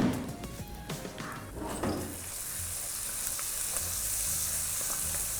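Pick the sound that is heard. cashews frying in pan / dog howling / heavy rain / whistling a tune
cashews frying in pan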